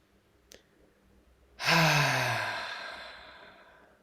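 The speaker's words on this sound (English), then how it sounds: "Let's take a breath together." A deep, loud breath taken in meditation or yoga practice: a faint catch, then a strong inhale that swells and slowly tails off into a long, fading exhale, alone and close by.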